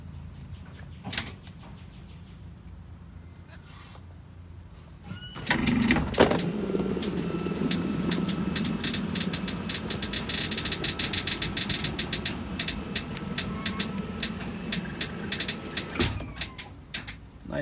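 Hydraulic cylinder on an Alpine RV slideout retracting, a steady mechanical whir and rumble that starts abruptly after a quiet stretch, with clicks and knocks at the start and finish, heard close by.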